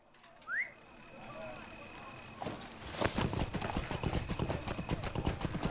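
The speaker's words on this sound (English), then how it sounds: "I'm gonna use my normal horse." Horse hooves clip-clop in Lord of the Rings Online, an ordinary riding horse rather than a war steed, starting after a brief game chime and settling into a steady, fairly loud galloping rhythm over ambient background.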